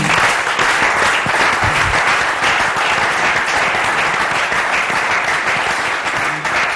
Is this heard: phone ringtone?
no